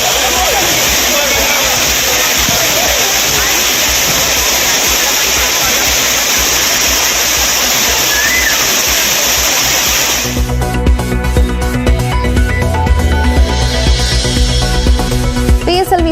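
Old Courtallam waterfall pours with a steady flow after maintenance work, a loud, dense, unbroken roar of falling water for about ten seconds before the sound cuts away, with a voice speaking.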